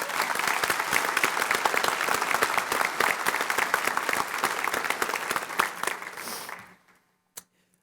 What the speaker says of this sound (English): Would y'all please give them a great round of applause?